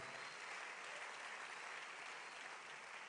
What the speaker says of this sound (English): I believe it's a good place to clap.